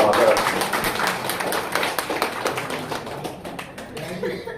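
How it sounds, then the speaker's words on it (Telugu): An audience at a poetry seminar claps steadily to congratulate a poet, with a continuous patter of many hands and a voice faintly mixed in. "గట్టిగా చప్పట్లతో శుభాకాంక్షలు చేద్దాం"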